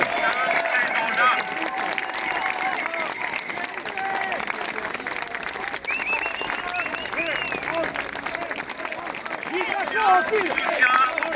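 A crowd at a political rally in Paris claps and cheers continuously. The dense applause stays loud and steady throughout, with a babble of voices mixed in.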